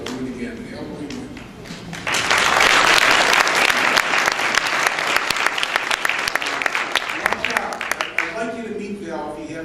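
An audience at a charity breakfast applauds the staff, the clapping swelling suddenly after a quieter stretch of voices and staying loud and sustained, with speech running over it near the end.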